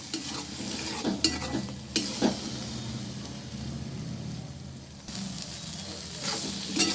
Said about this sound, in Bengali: আমি এবারে মশলাটা ভালোভাবে ভেজে নেব।